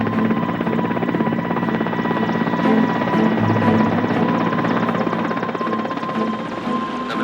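A Mi-8 transport helicopter flies past with loud, continuous rotor thumping and turbine whine, close and steady throughout with no voices.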